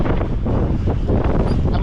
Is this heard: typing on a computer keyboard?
no